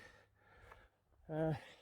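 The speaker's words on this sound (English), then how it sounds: "I'm a bit off the pace fitness wise, so a bit of panting early on" A hiker walking uphill pants heavily, with one loud, close breath burst near the end after quieter breathing and a brief murmur of voice.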